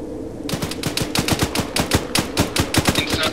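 Rapid bursts of gunfire in a marine-themed snow mission of a video game rattle in a fast, even rhythm, loud and close, with no talk over them.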